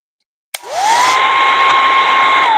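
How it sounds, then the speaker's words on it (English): A handheld hair dryer switches on with a sharp click and quickly rises to a steady, loud, close whirring blow that holds constant until the end, used to dry wet stain on an art piece. "just so I don't get stain all over me, I'm going to do a quick blow dry here."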